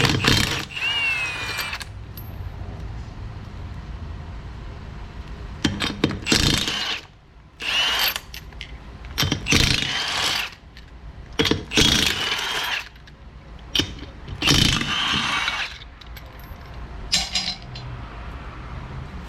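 A ratchet wrench fitted with a 21 mm socket turns a wheel bolt on a Hyundai Elantra, producing repeated bursts of close, loud clicking ratchet sweeps separated by short pauses, with no talk.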